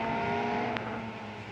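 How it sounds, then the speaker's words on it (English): Euroformula Open race cars roll up to the starting grid at Monza, Italy, a steady engine drone with harmonic whine, one brief sharp click partway through, no voices. "The cars come up to the grid."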